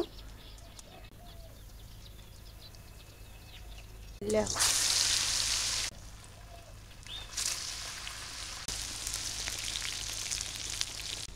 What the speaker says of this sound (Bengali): তেল গরম হয়ে গেছে, এখন আমি এক এক করে সবগুলো দিয়ে দিব।